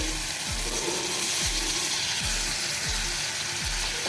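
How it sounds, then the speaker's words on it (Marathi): Tomato paste sizzling in a pan with onion during home cooking, a steady sizzle broken by a periodic scraping or clicking about once per second as the mixture is stirred. "आता ह्याच्यामध्ये आपण जी टोमॅटोची पेस्ट बनवलेली आहे ती घालूया आणि ती पण आपण परतून घ्यायची आहे"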